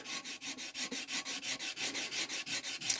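Rapid, even back-and-forth strokes of hand sanding with fine 320-grit paper on the side of a rectangular olive wood platter, a steady close rasping rhythm with no talk.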